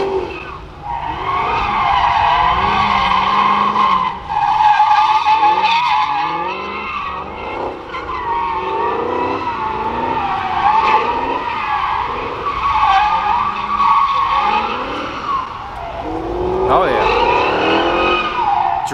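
Dodge Chargers and Challengers driven hard at a Mopar car event, tires squealing and skidding in long wavering howls over roaring engines, loud and close and continuous, with voices in the background.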